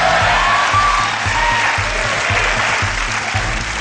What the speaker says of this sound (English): When Travis said the answer to this question, the audience clapped.